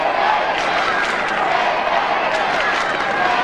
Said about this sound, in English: And the crowd just coming to life